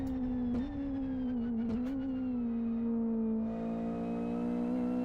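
A high-revving racing car engine in a Live for Speed mod, likely front-wheel drive, holds a smooth, steady whine with small blips and a rising shift of tone near the end, no voices.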